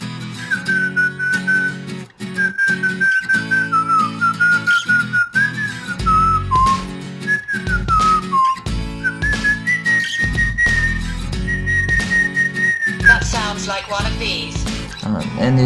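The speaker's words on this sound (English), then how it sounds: "So let's try the whistling." A person whistles a song melody as a music search query, with clear, wavering pitched notes running almost continuously and close to the microphone over background music with drums and bass.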